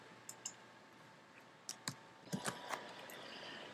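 Several crisp mouse clicks land close and fairly quiet on a toolbar bookmark button, a pair of single clicks first and then a quicker cluster.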